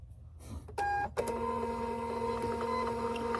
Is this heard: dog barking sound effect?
no